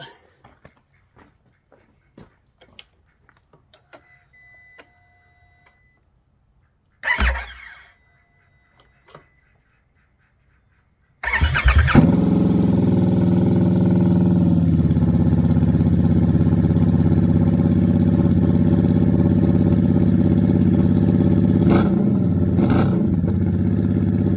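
A 2022 Harley-Davidson Nightster engine with a cheap loud aftermarket exhaust cranks after quiet clicks and a brief whimper, then catches and settles into a loud, steady, throbbing idle with a couple of blips.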